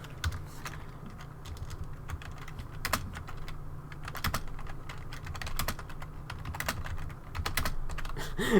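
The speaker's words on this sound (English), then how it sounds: "Let's type in the full thing right now." Someone types on a computer keyboard, producing quiet, irregular bursts of key clicks that continue steadily with short pauses between them.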